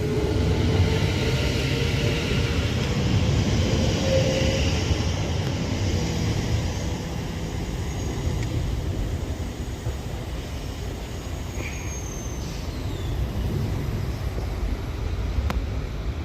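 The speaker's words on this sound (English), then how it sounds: "this West Midlands Railway Class 7:30 departs Birmingham International" A West Midlands Railway electric train departing Birmingham International rumbles steadily nearby with a faint rising electric whine, the sound holding at a constant level as it pulls away.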